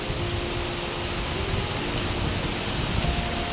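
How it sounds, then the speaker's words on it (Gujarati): Rain falls steadily over farmland, a continuous close hiss of drops with no breaks and no talk. "અને વરસાદ ચાલુ થઈ ગયો છે."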